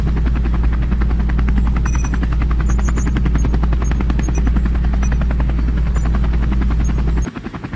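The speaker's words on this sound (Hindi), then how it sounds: "और राक्षस के सर के ऊपर हेलीकॉप्टर उड़ाने लगते हैं।" A powerful cartoon helicopter flies overhead, its rotor producing a loud, rapid, steady chopping throb that runs unbroken before cutting off abruptly near the end.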